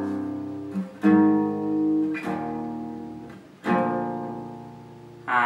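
Guitar playing the power chord riff from a song; heavy, sustained power chords strike about every second or so, each ringing out fully, up close with no talking.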